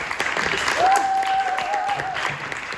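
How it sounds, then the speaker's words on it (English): A theatre audience applauds after a scene from a forum theatre staging of The Taming of the Shrew, brief dense clapping with a whistle or cheer rising through the middle. "Quick round of applause."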